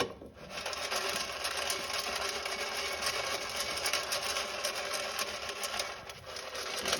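A pot of popcorn kernels in smoking-hot oil is shaken over an open fire, making a continuous dense rattling and sizzling hiss, fairly loud and steady throughout with slight rhythmic surges from the shaking.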